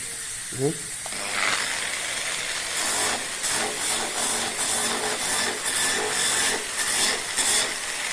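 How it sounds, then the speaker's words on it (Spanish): A steady, hissing electric sander with 60-grit velcro sandpaper grinds against stone while carving a moulding, with repeated rhythmic scraping passes; a short voice sound comes at the start. "voy a utilizar una lija de velcro del 60"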